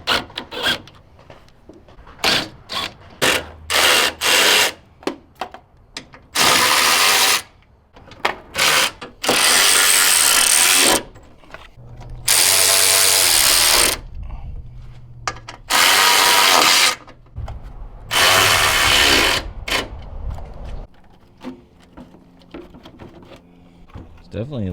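A ratchet loosens bolts on a Chevrolet Silverado's headlight bracket during a salvage-damage repair, producing repeated loud ratcheting bursts of one to two seconds separated by clicks and knocks, close by.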